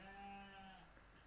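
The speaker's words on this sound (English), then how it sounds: "that's just the sheep going past my window" A sheep passing outside a window gives a single faint, wavering bleat that trails off, heard from indoors.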